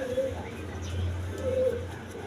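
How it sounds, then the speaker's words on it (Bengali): A pair of Rajgolla pigeons, one female and one male, coo in soft, low, repeated phrases at a pigeon farm, fairly close, over a faint background hum. "এইখানে আরেক পেয়ার রাজগোল্লা কবুতর আছে"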